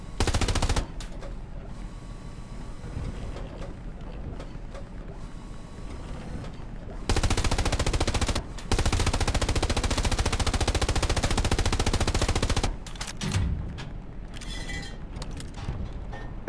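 Automatic gunfire from Hell Let Loose, the World War II shooter, including tank hip-fire, sounds in loud sustained bursts, one long volley running several seconds, over a constant quieter background of battle noise.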